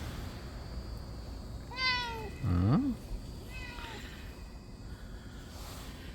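A cat meows twice, a rising-falling call followed by a louder drawn-out meow, then a fainter third meow; a person murmurs briefly.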